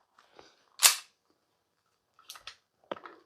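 A G&G Piranha SL gas blowback airsoft pistol fires in a few close, sharp cracks: one loud shot, then two quick pops and a final snap, separated by quiet gaps.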